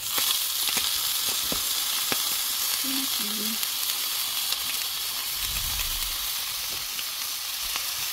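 Kimchi and pork ribs fry in a pot with a steady, close sizzle and hiss that runs unbroken for about eight seconds, with a brief low bubbling thump partway through.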